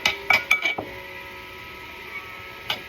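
A utensil clinks and taps against a dish while marinara sauce is stirred together, a quick cluster of bright scraping clinks, then quiet, then one last tap.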